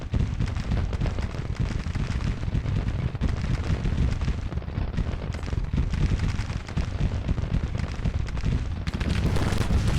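Musket volleys and artillery in a Grand Tactician: The Civil War battle roll on continuously as a dense, distant crackle and rumble of massed gunfire with no pauses.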